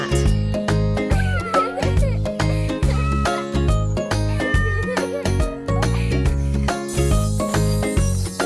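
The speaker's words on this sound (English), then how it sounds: "It's an orange cat." An orange cartoon cat meows repeatedly over bright, busy music, with the meows loud and close and set against a steady rhythmic backing.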